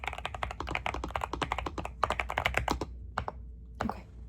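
Fast, steady typing on a computer keyboard during a soft-spoken therapy intake roleplay, dense rapid keystrokes with a brief pause near the end and a few final taps, close and clear with no talking.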